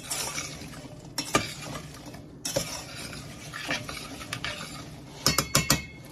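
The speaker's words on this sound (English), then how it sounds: "I'm just going to stir this all together, kind of break up that brown sugar that's sort of clumpy and lumpy" A spoon stirs cranberry sauce and clumpy brown sugar in a pot, giving close scraping strokes and metallic clinks, with a quick cluster of sharp taps near the end, no voices.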